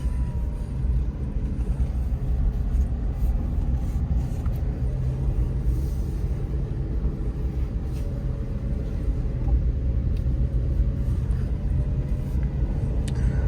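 A Suzuki Alto VXL AGS car is driven with its automated gearbox in manual M mode, giving a steady, loud low rumble of engine and road noise heard from inside the cabin.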